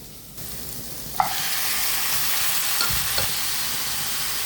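Chopped onions frying in a pan with ginger paste and chicken pieces nearby, a steady broadband sizzle that holds for several seconds after a sharp clatter, with faint stirring scrapes and no voices.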